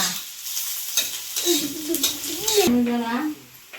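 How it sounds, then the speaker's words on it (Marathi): Onions sizzle steadily in hot oil on an iron griddle, a bright crackling hiss throughout, with a voice talking over the second half. "कांदा चांगला तेलात भाजून घ्यायचा लोखंडी तवा आहे"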